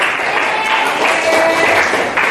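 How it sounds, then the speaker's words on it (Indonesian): A classroom of students clapping after a group presentation, a steady, fairly loud burst of many hands filling the room for a couple of seconds with no one speaking. "Oke, tepuk tangan buat kita semuanya."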